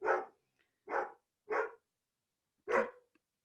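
A small, timid dog barks four times indoors, short sharp yips in an uneven rhythm with brief silences between them, close to the microphone and clear with no talking.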